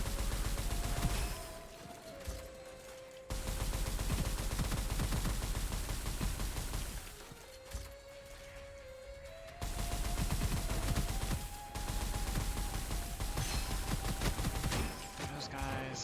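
Shotgun blasts in the video game Gunfire Reborn, dense bursts of loud booming shots with game music and effects running throughout, broken by brief quieter pauses.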